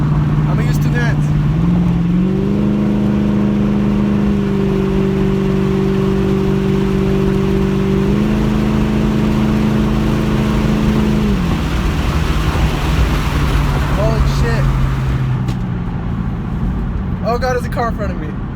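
Inside a moving car, the engine hum steps up through rising pitches as the car accelerates and shifts, then settles and drops back. Steady road and wind noise continue under it.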